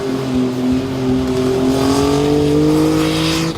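A 1970 Sunbeam Rapier with a turbocharged V6 revs hard at a burnout competition, its loud engine tone climbing steadily in pitch. The roar is sustained and close throughout, with no talking.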